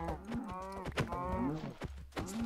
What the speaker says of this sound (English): Get over here, you cow!